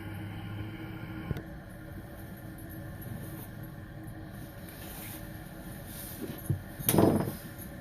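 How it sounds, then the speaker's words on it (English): A gas furnace burner running on hydrogen gives a steady, low rushing roar throughout, with a few clunks and a brief burst of noise near the end. "And now you just hear the burner running"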